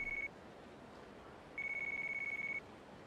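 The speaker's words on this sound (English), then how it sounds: "oh, I have to answer the phone like that." Phone ringing inside the video game Yakuza Kiwami: a steady electronic tone rings in two bursts, a short one and then a longer one of about a second, clear over a low background hum, with no talk.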